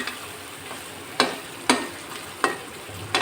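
Banana-flower curry is sautéed in a pan, a low sizzle running beneath four or five sharp scraping strokes of a spatula against the metal at uneven intervals.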